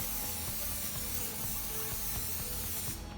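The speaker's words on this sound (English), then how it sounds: "just spray your pan like this" A continuous hissing spray from an aerosol can of non-stick cooking spray coating a baking pan, steady and close, with faint scattered ticks underneath and a sudden stop at the end.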